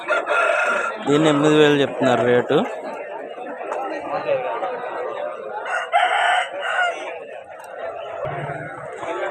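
A rooster crows loudly nearby, twice with a pause between, while someone talks almost the whole time.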